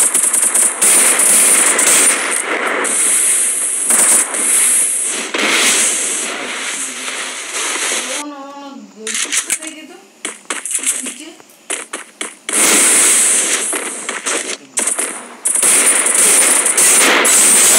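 Rapid video-game gunfire with headshot hits crackles in loud, dense bursts, broken by a short gap of sparse shots and small clinks before the heavy firing resumes.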